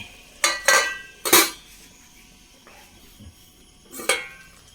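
A metal lid clanks onto a pot of freshly made avial dressed with raw coconut oil, giving a few sharp clinks of metal on metal close by, then quiet before one last clatter.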